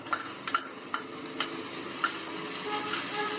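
Okra frying with curry leaves as tomato is tipped into the pan: a soft steady sizzle under a few sharp spoon taps and clicks against the pan, close and fairly quiet.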